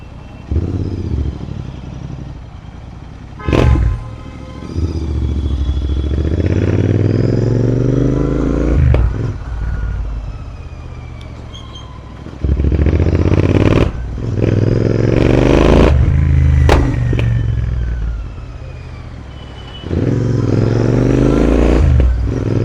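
A Royal Enfield Interceptor 650 ridden close-up through rain and traffic, its engine rising and falling with repeated revving and accelerations, broken by wind rush and passing vehicle noise, loud and near throughout.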